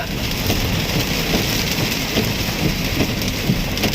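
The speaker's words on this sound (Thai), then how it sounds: "ฝนตกหนัก ฝนตกหนักมาก ๆ" Heavy rain pours steadily and loudly in Salaya, Thailand, a dense continuous hiss of drops hammering surfaces with no break.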